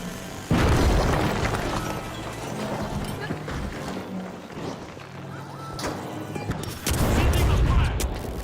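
C4 barrels explode in the shooter The Finals, with a loud booming blast at the start and another near the end and crackling debris and gunfire in between, while a voice talks over the action.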